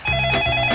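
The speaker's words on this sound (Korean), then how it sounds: "전화 왔다." A telephone rings once in a convenience store, a short, loud, close electronic ring heard on its own.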